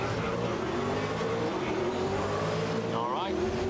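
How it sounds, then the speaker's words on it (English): Race car engine in GRID (2019) drones steadily at high revs with a rising pitch, tire noise and a brief gear-shift flutter near the end, loud and continuous. "I'm gonna let my car do the noise."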